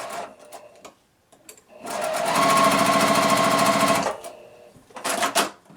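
A sewing machine stitches a quilt seam along a drawn line, a fast even mechanical whir lasting about two seconds, with shorter bursts of stitching and handling clicks before and after.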